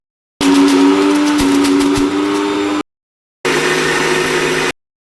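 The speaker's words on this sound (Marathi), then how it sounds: "तर आता मी हे मिक्सरमध्ये ग्राइंड करून घेते" A kitchen mixer grinder whirring loudly as it grinds gram flour with chillies and salt into a smooth dosa batter, running in two steady, whining bursts separated by a short silent pause.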